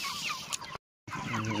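Chickens at a village poultry farm in Kalikot, at feeding time, give soft clucking calls. The calls come before and after a brief moment of silence, heard fairly close and at moderate volume.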